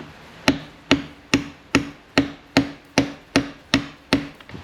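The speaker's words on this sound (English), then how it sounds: "new bearing going on now. I'll just have to tap this guy on." Ten evenly spaced sharp metallic hammer taps, about two per second, as a new bearing is driven onto the power steering pump of a GU Nissan Patrol RD28 turbo diesel, each strike close and crisp with a short ring.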